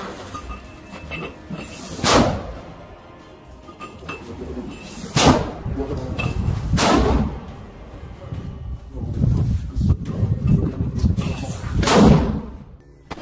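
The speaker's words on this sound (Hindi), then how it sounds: "अल कासिम के कुछ लड़ाके लॉन्चर से लगातार रॉकेट फायर कर रहे हैं" Fighters fire rockets from a launcher inside a ruined building, producing about five loud, sharp blasts spread irregularly across the span, each followed by a rushing roar and rumble, with no talk.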